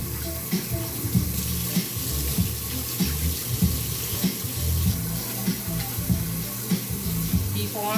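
Tap water runs steadily into a sink while rice is rinsed in a home kitchen, a continuous splashing wash with light clatter, heard up close and alone.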